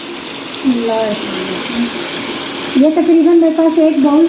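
Water pours into a cooking pot of spiced chicken biryani base, a steady splashing gush under a voice talking over it.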